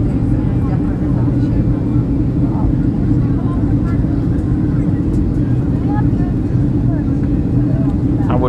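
An airplane's engines roar steadily and loudly during landing, a constant close rumble with no breaks.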